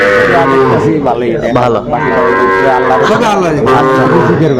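Cattle, including young bull calves on a farm in Barguna, Bangladesh, moo loudly and repeatedly at close range, several animals overlapping in long drawn-out calls with little pause between them.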